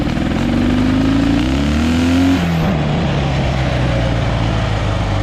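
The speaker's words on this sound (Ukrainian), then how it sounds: "Перша передача, спокійно рушаємо. Якщо даєш трошки газу, вона зривається." A Dnepr MT 11 motorcycle pulls away in first gear under throttle, its engine note rising loud and close, then dropping back to a rough lower rumble.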